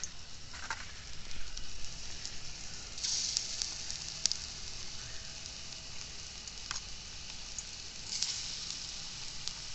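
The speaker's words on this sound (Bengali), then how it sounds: "দেখো করে পেঁয়াজি ছেড়ে দেবো, ওই দেখো ফটফট করে ফুটছে।" Onion fritters (piyaji) fry on a small, fierce outdoor stove. A soft, steady sizzle carries a few spitting pops and occasional louder bursts, fairly faint, with no speech.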